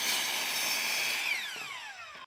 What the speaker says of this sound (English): I cut down some 2x6 pine studs with a miter saw